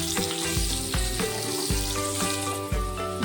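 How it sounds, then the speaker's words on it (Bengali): Potatoes with turmeric and salt frying in oil in a wok, a loud continuous sizzle broken by several soft thumps and scrapes of stirring at irregular intervals, close and with no voices. "আলুটা ভালো করে ভেজে নেব"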